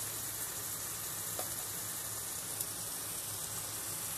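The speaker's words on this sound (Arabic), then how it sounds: "كده البصل اصفر، هحط بقى الفراخ زي ما انتوا شايفين كده" Chicken breasts fry in a pan with golden onions, giving a steady, even sizzle with faint crackles, moderately loud and constant with no talk.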